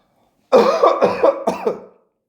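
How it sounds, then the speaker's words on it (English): A short burst of several harsh coughs in quick succession, close and loud, trailing off after a moment. "my mistake for just a little coughing fit"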